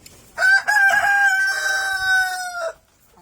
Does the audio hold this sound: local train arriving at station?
no